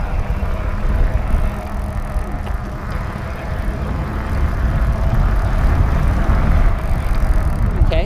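A Rad Power Bikes RadRover fat bike's electric motor running at pedal-assist level 1 gives a steady, fairly quiet whir blended with continuous rolling and wind rush, holding an even level throughout.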